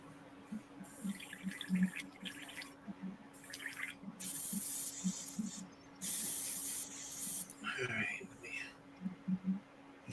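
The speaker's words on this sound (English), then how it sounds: "I got a little lacquer thinner in there just to blow all the boogies out of there" An airbrush blasts lacquer thinner through to flush it clean, giving several short hissing sprays and a few longer bursts of a few seconds each, close and fairly loud, with a low hum running underneath.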